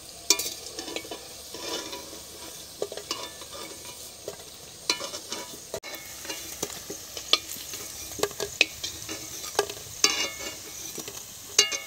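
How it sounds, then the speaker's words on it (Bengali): Taro flower fritters fry in hot oil in a village kitchen, with a steady soft sizzle and bursts of crackling as they are stirred, throughout and without talk. "বড়াগুলো ভাজা হয়ে গেছে"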